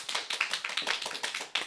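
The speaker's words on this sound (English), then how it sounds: "Let's give a round of applause for them." A small audience gives a short burst of applause for trivia question collectors at a Narnia trivia competition, quick light claps tumbling together for under two seconds, fairly close.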